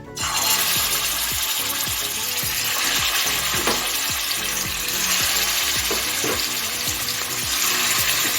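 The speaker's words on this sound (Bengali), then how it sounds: "এখন আমি চিকেনগুলো ভেজে নিচ্ছি" Loud, steady sizzling of chicken frying in hot white oil in a kadai, with scattered pops and crackles and occasional clinks of a utensil against the pan throughout.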